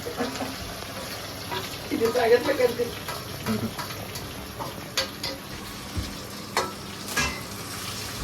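Onions frying in a pan with a soft sizzle while a spoon stirs and scrapes now and then, with a voice talking briefly in the background.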